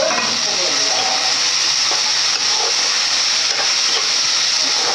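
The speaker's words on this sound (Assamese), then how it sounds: "ইয়াত দিছিলোঁ মই পিঁয়াজ, আৰু এইখিনি ৰঙচুৱা হোৱালৈকে ভাজিব লাগিব" Onions fry in oil for a fish curry, a loud continuous sizzle and crackle with faint stirring, steady from start to finish.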